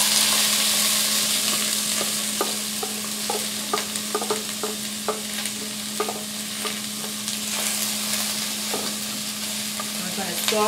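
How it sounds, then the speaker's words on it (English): Green peppers, onion and garlic sauté in oil in a pan, a constant soft sizzle punctuated by a series of sharp spoon-against-pan taps and scrapes from stirring, close up, with a faint steady hum beneath. "I'm going to saute this"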